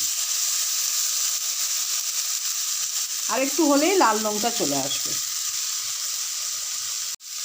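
Eggplant frying in a pan with a steady, close hiss and crackle of hot oil throughout. Someone speaks briefly over the sizzling partway through.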